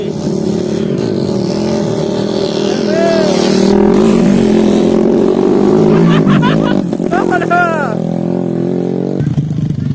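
A four-stroke motorcycle that is smoking revs hard on a rural jungle trail in Pagar Dewa, West Lampung, its engine roaring loud and close with rising and falling pitch, while people shout and talk over it.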